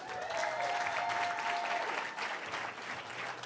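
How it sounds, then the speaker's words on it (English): Audience applause at a Black Girl Ventures event, a dense, even wash of many hands clapping throughout, fairly faint and distant, with a faint tone briefly sounding over it. "Keep that round of applause and energy going for Camille Hall from Proper Lemonade"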